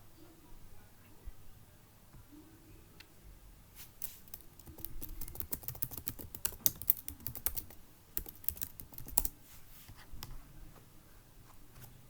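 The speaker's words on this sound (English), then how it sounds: "Let me type it better." Quiet clicks of a computer keyboard, with scattered keystrokes that become a dense, fast burst of typing in the middle before thinning out again, and no talk over it.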